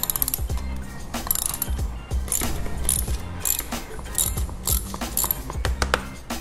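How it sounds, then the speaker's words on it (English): Socket ratchet turning bolts on a Harley-Davidson swingarm bag bracket, a steady run of close, repeated mechanical clicks and pawl ticks with small pauses, no talking. "Let's go ahead and get some sockets to remove those."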